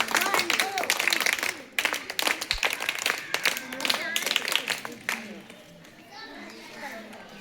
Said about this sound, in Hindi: सारे बच्चों के लिए एक ताली तो बनता है, 3 ताली